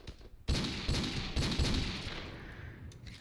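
Rapid gunshots from Modern Warfare Remastered, a quick volley of loud, close shots fired in fast succession, each with a sharp crack and a ringing tail, on a Bog map in search and destroy.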